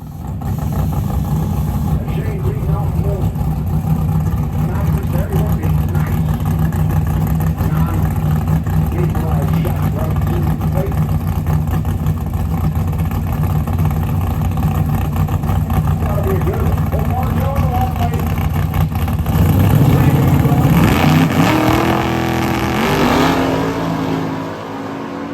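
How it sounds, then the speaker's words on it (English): A Barracuda drag car running on nitrous with an auxiliary fuel system roars continuously under a voice, then surges louder in a hard acceleration near the end, the engine note climbing before fading. "Joe really just didn't stand a chance there after Shane dropped the loud pedal."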